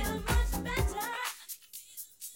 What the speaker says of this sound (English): It's just a high pass filter, so it's passing everything except the highs.